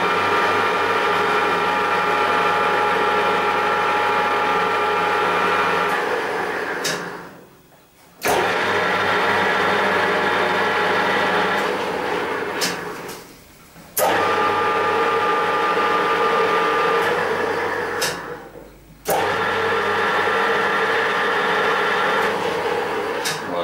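A new OTMT metal lathe spindle running at 270 rpm gives a steady mechanical hum with a faint whine, stopping briefly three times and then restarting at a sustained, even level.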